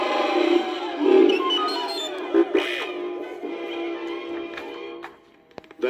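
Rebels and Hoojibs cheering together with Chewbacca's victory roar, a loud burst of mixed shouting and whooping crowd voices that gradually thins out and fades toward silence near the end.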